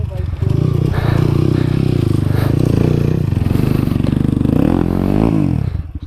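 Motorcycle riding in Sikkim, a close, loud, steady engine drone with rapid pulsing that holds throughout, then shifts pitch near the end as the revs change, with wind and rattling over it.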